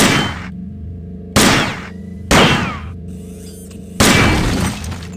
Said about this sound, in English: Oh yeah, look at that awesome explosion.